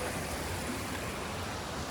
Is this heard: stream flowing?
yes